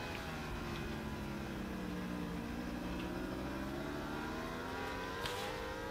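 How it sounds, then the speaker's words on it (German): A superbike with an open exhaust runs hard on track at Oschersleben during a Dutch Superbike race, its engine note rising and falling in steady drawn-out sweeps, loud and continuous for the whole stretch. "Wir dürfen mit offenem Auspuff fahren."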